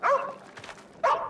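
A dog in the Arizona Sunshine 2 VR video game barks twice, close and loud, the two short barks about a second apart with quiet between them and no talking.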